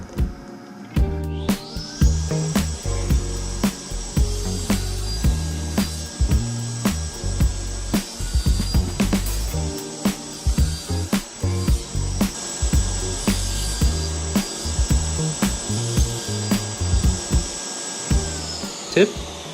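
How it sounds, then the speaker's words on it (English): Table saw, a Festool, cutting half-lap joint slots in wood pieces for an Advent wreath, a steady loud whine of the running blade with repeated rhythmic cutting passes and bumps for nearly twenty seconds. "We use a table saw to cut the slots for the half-lap joint in the middle."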